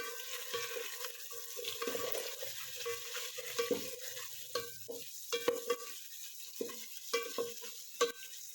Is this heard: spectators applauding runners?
no